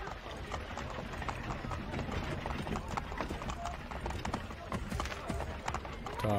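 Horse hooves clip-clopping in Assassin's Creed III, several horses trotting close by on a Boston street in a steady, busy rhythm that continues without a break.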